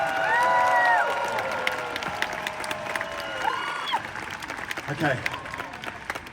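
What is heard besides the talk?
audience applause for the singers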